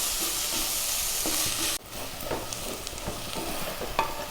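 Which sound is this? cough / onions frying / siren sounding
onions frying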